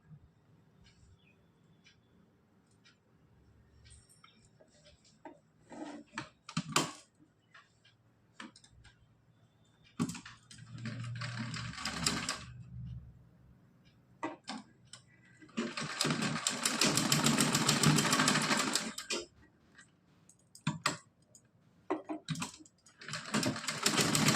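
A sewing machine stitches folded, doubled net fabric for a lace dress, running in several bursts of rapid mechanical whirring, with a long steady run near the end and quieter handling clicks between bursts.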